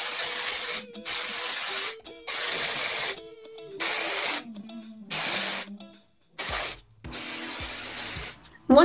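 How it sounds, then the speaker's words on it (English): Coconut-scented dry shampoo sprayed from an aerosol can onto hair: a series of loud, close hissing bursts, each about a second long, separated by short pauses, with no talking. "I have coconut scented shampoo, dry shampoo."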